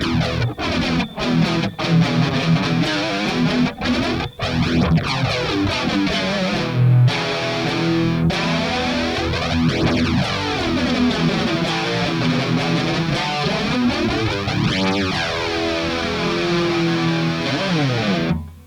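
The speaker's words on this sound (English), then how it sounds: "And then a bit of chugging, sounds pretty heavy" Thick, high-gain electric guitar through a Kemper Profiling Amplifier chugging in tight palm-muted rhythms, loud and steady throughout, ending abruptly; no talking.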